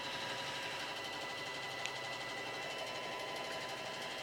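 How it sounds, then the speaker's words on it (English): A rescued sewing machine runs a test seam with a steady, fairly faint mechanical whir and rapid needle chatter that holds evenly throughout. "This machine needed a little bit of help, but let's see if it sews."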